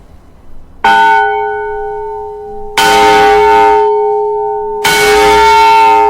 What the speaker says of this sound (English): is going to chime the bell that used to serve as an emergency warning of a